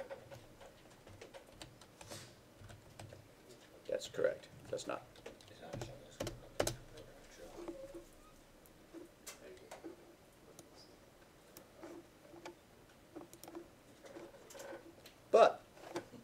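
Keys tapped on a computer keyboard's numeric keypad while holding Alt to enter an Alt code, a scattered run of light clicks under intermittent classroom talk, with one sharper tap near the end.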